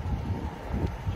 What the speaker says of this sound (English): It's windy here, so again, wind.